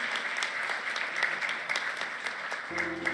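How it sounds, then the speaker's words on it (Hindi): Steady, fairly faint audience applause at a ministerial weather portal launch event in India, with a short electronic tone entering near the end. "जोरदार तालियां सभी की ओर से करतल ध्वनि से आइए।"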